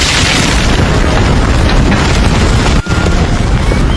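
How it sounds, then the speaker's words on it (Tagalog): A massive bomb blast in the Hunter x Hunter anime, the third bomb planted by Beyond Netero, roars as a loud, sustained rumble across the whole stretch, with one brief dip near the end. "sumabog na nga ang pangatlong bomba na itinanim nila Beyond Netero"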